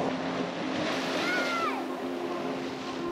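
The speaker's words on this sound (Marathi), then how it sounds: "दगडांवर पडणाऱ्या या लाटा बघत बघत या बीचवर बसण्याचा आनंद काही वेगळाच होता." Sea waves washing over rocks on a rocky beach at Diveagar on the Konkan coast, a steady close hiss and rush of surf, with a faint whistling sound passing midway.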